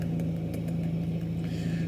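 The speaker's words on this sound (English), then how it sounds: "sorry about the car noise as well" Steady car engine drone with a strong low hum, continuous and fairly near throughout, no talking.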